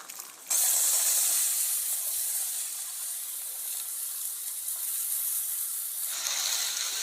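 Green bean pods hit hot oil seasoned with spices and turmeric, setting off a sudden loud, bright hiss that holds steady for several seconds before easing slightly at the end, heard close with no talking.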